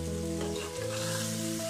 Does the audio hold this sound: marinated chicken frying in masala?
yes